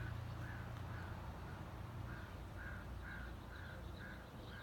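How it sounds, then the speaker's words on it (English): Ravens call in the morning outdoors, a series of rhythmic harsh caws repeating about every half second, faint and distant over a steady background hiss. "The ravens are squawking at something."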